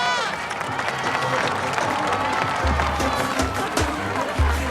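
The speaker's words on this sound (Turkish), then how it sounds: "Alkış!" A large crowd at a gathering applauds and cheers in a steady, dense wash of clapping that runs throughout, with voices mixed in and a few heavier thumps toward the end.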